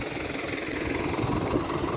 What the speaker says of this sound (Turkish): Traktörümüz bu iş için ideal oldu. İzlerden gidiyoruz, hiç sıkıntı yok.